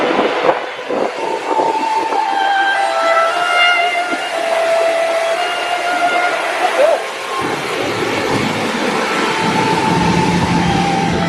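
A moving train in Norway stopped at a waterfall between two tunnels rumbles steadily, with faint indistinct voices and a few tonal sounds drifting over the continuous noise.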